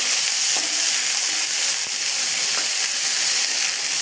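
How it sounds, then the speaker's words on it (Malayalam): Two medium onions sautéing in a pan for a kovakka (ivy gourd) stir-fry give a steady, close, loud sizzle with a broad hiss that runs the whole time, with no talking. "അത് നന്നായി മൂപ്പിക്കുക നന്നായി വഴറ്റി കൊടുക്കുക"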